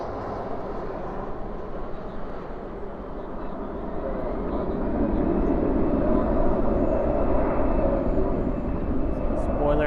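A Boeing 737 lands at Dallas/Fort Worth airport at night with spoilers up and thrust reversers out. A broad jet roar swells and holds loud over several seconds, with voices murmuring underneath.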